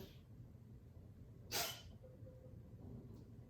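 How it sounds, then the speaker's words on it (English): A single short, sharp sneeze from a cat, a bit distant, over a low steady background hum. "That's just my cat sneezing in the background."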